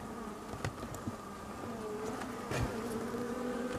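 Honeybees hum inside a hive in late October, a close, steady buzzing drone with a few sharper individual buzzes and light taps against the wood.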